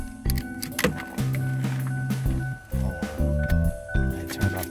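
A faulty power window motor in a Ford Explorer driver door whines and grinds with a strained, uneven mechanical drone, stopping and restarting in several close, loud bursts.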